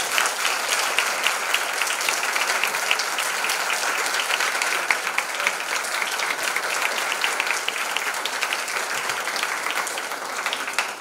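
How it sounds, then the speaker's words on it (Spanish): Audience at an afternoon talk on administrative process concepts bursting into steady, dense applause, many hands clapping continuously for several seconds at an even level. "les pediría antes de retirarnos un aplauso por la exposición del día de hoy"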